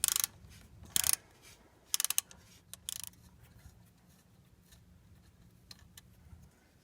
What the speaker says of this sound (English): I'm going to be using one of these Cobalt universal sockets